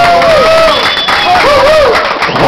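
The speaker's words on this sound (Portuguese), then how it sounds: "Uma salva de palmas para essa..." A crowd at a year-end celebration in Guaraú, 2010, cheers and applauds loudly, with whistles and high shouts rising over the clapping, close and continuous.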